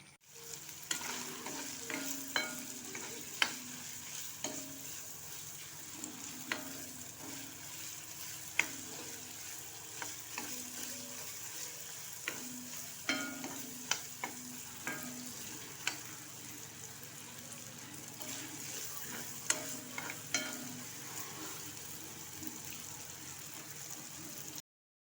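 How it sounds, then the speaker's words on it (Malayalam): Chicken feet sizzle steadily as they fry in a pan, with a spatula scraping and stirring at frequent, irregular intervals. The frying sounds close and moderately loud, and no one speaks. "തീ കൂട്ടിയും കുറച്ചും ഇടയ്ക്കിടയ്ക്ക് ഇങ്ങനെ ഇളക്കി കൊടുത്തിട്ട് പൊരിച്ചെടുക്കുക"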